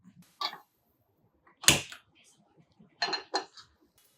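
Spoon clinking against a pot or bowl while mixing cooked rice with curry leaves and oil for pulihora; a few separate scrapes and taps, close and fairly quiet, with pauses between them.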